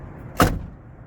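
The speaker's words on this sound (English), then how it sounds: "Listen to this door shut." A 1994 Ford F-150 truck door shuts with a single solid thud, close and loud, then a brief fading rattle over quiet outdoor background.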